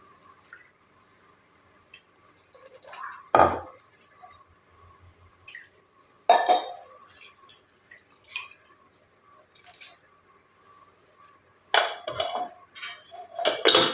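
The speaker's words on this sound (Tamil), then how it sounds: "ஒரு 1/4 டம்ளர் தண்ணி ஊற்றினீங்கன்னா நல்லா கழுவிக்கலாம்" A quarter tumbler of water sloshes and clinks inside a metal vessel as it is rinsed, in a few sharp bursts, with quiet dripping and handling sounds in between.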